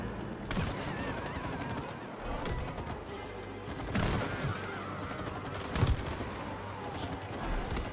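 Gunfire from the co-op video game It Takes Two, a dense stream of shots with sharper bursts at intervals, running steadily beneath game music and effects, with players talking over it.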